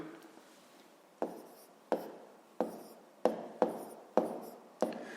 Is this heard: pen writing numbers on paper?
yes